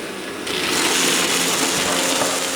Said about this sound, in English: it sounded like the vacuum was going to explode